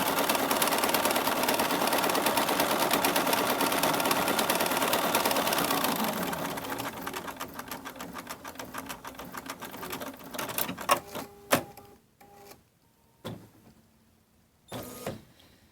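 An embroidery-style quilting machine stitches the border of a fabric table topper, a loud, continuous rapid mechanical whir for several seconds that then slows into short stuttering bursts and stops, close up with no voices.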